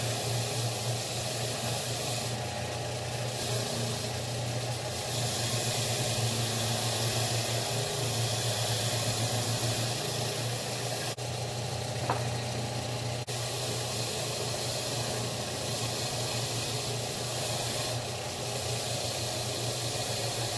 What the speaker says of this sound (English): just wire wheel this right away.